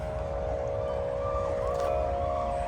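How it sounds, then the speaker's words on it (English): A siren wails steadily in the distance on a windy day, a sustained tone held under the constant rush of wind. "Is that a siren?"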